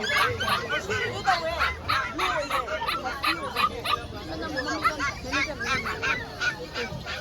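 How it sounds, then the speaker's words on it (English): Dogs, including a husky, bark and yip repeatedly at a busy pet market in Kolkata, the calls coming close and loud through the crowd while people talk over them. "Husky. Husky."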